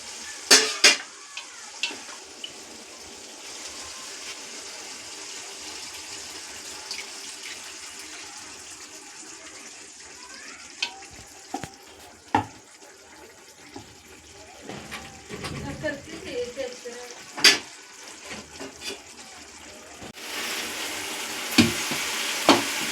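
Chikkudukaya egg curry with tamarind added, simmering in a pan and stirred now and then: a steady low bubbling sizzle with scattered spoon scrapes and clinks against the pan, plus a brief tap-water rush near the end.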